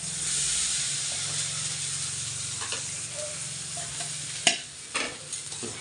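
Sabudana dosa batter sizzles on a hot pan in a dense, steady hiss, close and clear, with a few sharp scrapes and taps toward the end and no talking.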